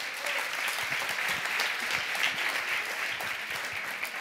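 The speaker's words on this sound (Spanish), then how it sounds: "Un fort aplaudiment per ell." Studio audience at an awards show applauds guest Javi Márquez, a continuous full wash of clapping that stays even and unbroken throughout, with no voices over it.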